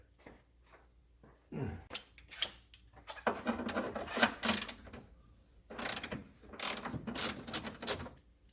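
A ratchet wrench with a 13mm socket works on a car during a coolant and washer fluid tank replacement, giving bursts of quick metallic clicking and rattling broken by short pauses, close by, with no talk.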